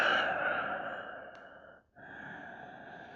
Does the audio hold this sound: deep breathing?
yes